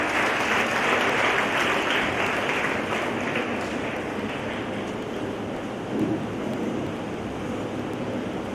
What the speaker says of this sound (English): Please give a big round of applause to welcome our sister.